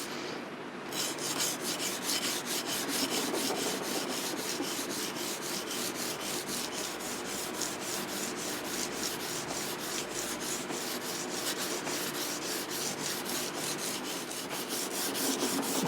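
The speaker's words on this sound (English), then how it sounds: "this is 220 grit that I'm using right now, so it's not anything crazy aggressive either" 220 grit sandpaper rubbed along the blade of an old butcher knife in quick, even back-and-forth strokes, a close, continuous rhythmic scratching with no voices.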